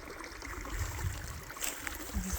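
Water runs in to fill a newly built backyard pond, a soft steady trickling and gurgling flow heard close by, faint and continuous with a few louder splashes.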